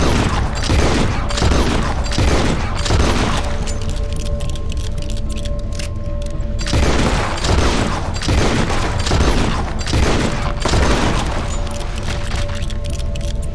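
Gunfire in the Red Dead Redemption 2 video game, a dense fusillade of shots and booms that runs on loudly throughout, with short lulls broken by steady tonal game sounds.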